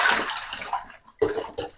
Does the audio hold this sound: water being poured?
yes